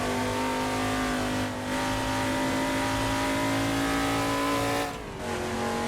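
An XA Falcon, a classic Australian muscle car, drones steadily around the Bathurst circuit in a racing game, its engine holding a sustained tonal whine with brief dips during gear changes.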